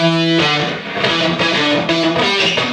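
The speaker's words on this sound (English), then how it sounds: "So I recorded it in 3 octaves. Lower one" A heavily distorted electric guitar plays low, sustained notes with a thick, saturated buzz, loud and alone.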